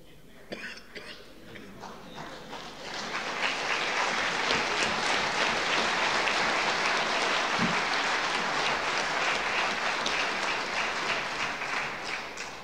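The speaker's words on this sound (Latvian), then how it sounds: "uzskatīsim jūsu aplausus par piekrišanu" A crowd in a congress hall of the Latvian Citizens' Congress breaks into sustained applause that swells after a few seconds and holds steady as dense clapping, with a cough or two near the start.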